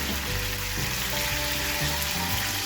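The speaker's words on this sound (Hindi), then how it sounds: "सिर्फ जीरा, ताकि ये भी थोड़ा सिजल कर जाए" Cumin seeds sizzling in hot oil as karela stuffed with keema browns in the pan, a steady crackling fry that stays close and even from start to finish, with no voices.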